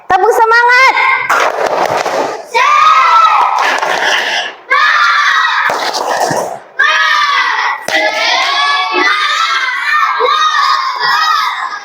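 Classroom of children doing a rhythmic clapping chant, with bursts of clapping and loud young voices shouting together in several energetic rounds, nearby and filling the room.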